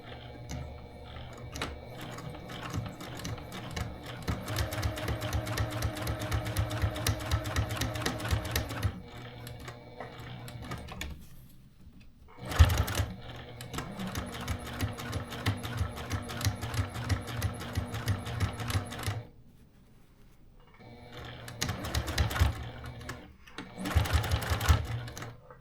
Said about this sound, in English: we're going to sew very, very close to the edge